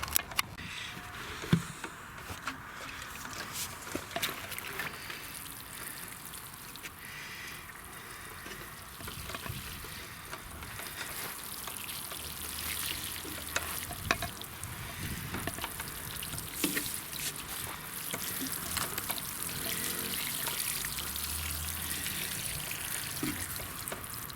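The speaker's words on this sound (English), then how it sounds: "I need to get my watering can" A watering can pouring onto plants on an allotment vegetable plot in July, giving a steady trickling, splashing water sound that runs continuously throughout, fairly close and with no talking.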